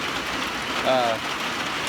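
Heavy rain drums steadily on a tin roof over a front porch, a dense even patter with a brief tonal squeak in the middle.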